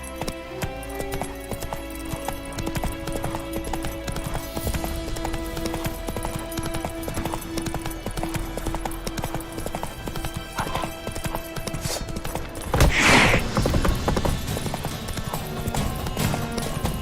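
Roach, Geralt's horse in The Witcher 3: Wild Hunt, trots with a steady, close clip-clop of hooves throughout. A louder burst near the end sounds like a snort or whinny.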